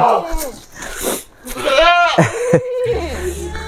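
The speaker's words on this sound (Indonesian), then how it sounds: "Itu ada kambing yang lepas satu karena takut dengan lalat tadi." PE Kaligesing goats in a pen, with several bleats mixed with other noise and people talking nearby.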